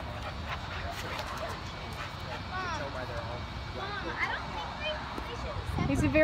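A black Labrador puppy gives a few yips and whimpery barks while playing amid noisy outdoor rumble, with people talking in the background.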